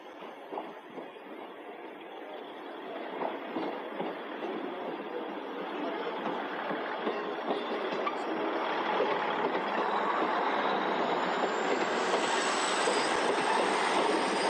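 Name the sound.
LMS Jubilee Class steam locomotive 45596 Bahamas passing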